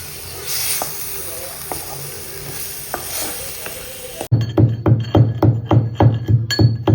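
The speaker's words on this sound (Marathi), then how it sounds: "असं फ्राय करून घ्यायचं." Chole frying in a pan with oil: a low background hiss for the first four seconds, then loud, rhythmic stirring scrapes and sizzles repeating about twice per second, with no talking.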